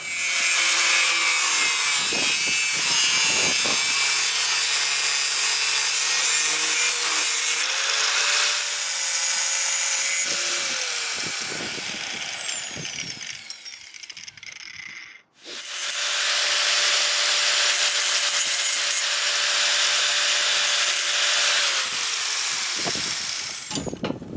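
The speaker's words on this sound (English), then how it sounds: "You can be remarkably precise with the angle grinder." An angle grinder cuts a thick carbon steel knife blank outdoors, a loud continuous abrasive whine with pitch dips under load, stopping briefly midway before starting up again for another long cut.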